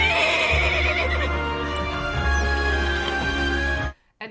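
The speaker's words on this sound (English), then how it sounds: "Look, it's a horse-drawn carriage, but they couldn't afford that horse, so they just put in a horse noise." A horse neighs as a film sound effect standing in for a horse-drawn carriage, a loud sustained whinny with hoof clip-clop beneath it, ending abruptly in silence.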